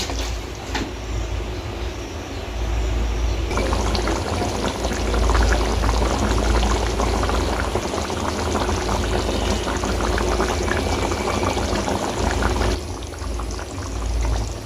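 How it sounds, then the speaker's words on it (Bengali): Pointed gourd and prawn curry boils in a pot with a continuous bubbling, gurgling hiss that grows fuller after a few seconds and stays steady, close and loud, with no talking. "দশ মিনিট বা পাঁচ মিনিট মতো ফুটিয়ে নিয়ে"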